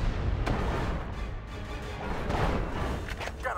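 Artillery guns fire in a World War-era RTS battle between US and Japanese forces, with a dense run of heavy booms and rumbling blasts that overlap into continuous loud bombardment.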